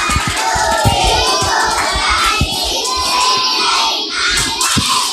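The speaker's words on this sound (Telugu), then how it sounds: "అందరూ క్లాప్స్ కొట్టండి ఒకసారి" Children at a Christian Sunday school puppet show clapping their hands, a busy continuous patter of many small claps mixed with excited young voices and shouting.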